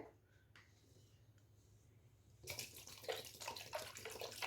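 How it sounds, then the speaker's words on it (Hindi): Cold water poured into cream skimmed from milk, a quiet start with faint clinks giving way to a gushing, splashing pour for the last two seconds, no talk. "हम लगभग 1 गिलास पानी और डाल ले रहे हैं इसमें।"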